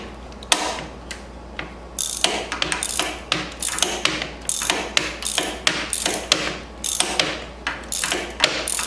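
A screwdriver working the key switch of a 1984 Honda Sabre VF700S motorcycle, giving close, crisp ratcheting clicks and metallic taps in quick irregular bursts, with no talk.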